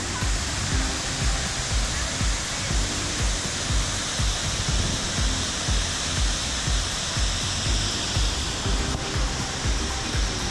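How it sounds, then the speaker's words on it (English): A steady, loud roar of falling water at Havasu Falls fills the whole clip, a continuous broadband rush with no pauses, close by. "we're at the first waterfall"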